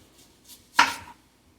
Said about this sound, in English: very carefully, we're gonna slice into our onion